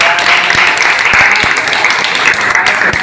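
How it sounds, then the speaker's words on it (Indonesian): A room full of people applauding a group's work at a school coaching session, loud dense clapping held steadily throughout with a few sharper claps standing out. "Aplaus untuk teman-teman yang"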